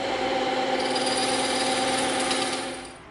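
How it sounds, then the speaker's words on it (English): A bandsaw slices through a thick one-inch slab of layered EVA foam, giving a steady, loud whirring drone at close range that fades out as the cut finishes. "Now we're going to come in with our bandsaw and we're going to make a nice clean cut along the bottom right here"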